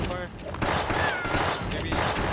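Rapid gunfire crackles through a shooter video game in a dense, continuous burst of shots, while voices talk over the action.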